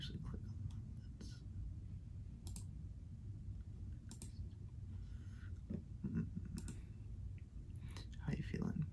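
A computer mouse clicks softly several times in a quiet room, a scattering of sharp, faint taps among whispered speech.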